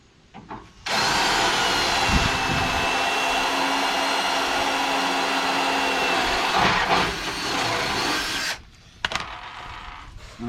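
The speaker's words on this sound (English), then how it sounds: "Change out the drill bit to a little bit bigger one." An electric drill fitted with a slightly larger bit bores a hole while wiring boat trailer lights, giving a loud, steady whine for about eight seconds that starts and stops abruptly, with brief handling noises afterwards.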